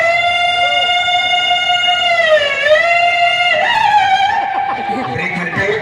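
A VIP car siren, loud and close, holding a steady high wailing tone that dips and bends in pitch midway before shifting, with faint voices beneath.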